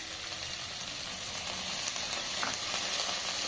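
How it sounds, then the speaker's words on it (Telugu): Green chillies and vegetables frying in a pan for upma, a continuous even hiss of sizzling oil throughout with faint stirring scrapes, close and alone without speech. "ఇప్పుడు ఇలా ఫ్రై అండ్ వాటిలో మనం వెజిటేబుల్స్ యాడ్ చేసుకుందామండి బీన్స్"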